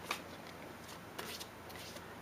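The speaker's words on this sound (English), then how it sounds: "I'm going to close my eyes while I shuffle, and then we'll draw from the bottom." A deck of Eldritch Horror board game cards being shuffled by hand, a soft rapid riffling and sliding that runs steadily and close with a few sharper flicks, no talking.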